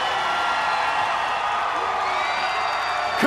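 A dense, sustained roar from a large crowd cheering and whooping after Carey Hart's first motocross backflip in 2000, loud and continuous, with voices mixed into the din.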